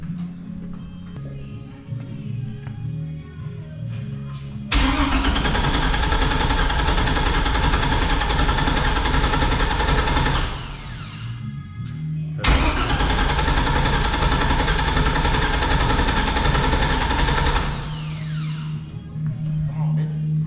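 A Pontiac Trans-Am with an LS engine swap, fresh radiator and headers, fires up twice: each time a loud, rough engine roar holds steady for several seconds before cutting off, with quieter background sounds in the gaps.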